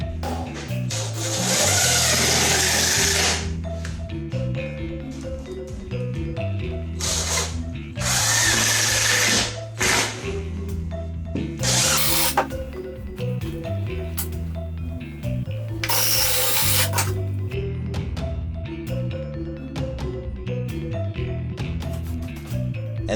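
A power drill whirs in repeated bursts of a few seconds each, driving screws into wood, with quieter pauses and faint handling noise between runs.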